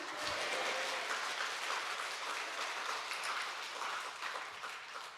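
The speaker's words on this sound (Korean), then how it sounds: "박수 치면서 아멘." A church congregation claps along during a sermon's closing amen, a fairly faint, dense wash of hands that fades slightly toward the end.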